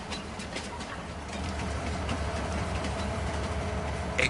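A train in Farming Simulator 19 rolls along on its own, giving a steady low engine rumble with rail noise that swells slightly and holds at a constant level, with no voices.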